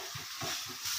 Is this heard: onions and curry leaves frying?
yes